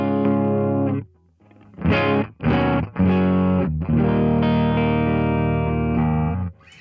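A Carvin Kiesel electric guitar plays with a clean tone and no delay or pedal: a sustained chord, a short pause, a few quick strums, then a long ringing chord, loud and close, with no voices.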